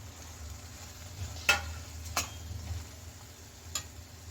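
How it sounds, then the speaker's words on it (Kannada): Fried okra being stirred into masala in a pan for bhindi masala: a steady low sizzle runs underneath while a few sharp spatula scrapes and clinks sound at intervals, quiet and close. "ಈ ಟೈಮಲ್ಲಿ ನಾವಿಲ್ಲಿ ಬೆಂಡೆಕಾಯಿನ ಹುರಿದಿಟ್ಕೊಂಡಿರ್ತೀವಲ್ಲ ಅದನ್ನು ಇದಕ್ಕೆ ಸೇರಿಸ್ಕೊಳ್ಳೋಣ. ಸೇರಿಸ್ಕೊಂಡು ಚೆನ್ನಾಗಿ ಮಿಕ್ಸ್ ಮಾಡ್ಕೊಳ್ಳೋಣ."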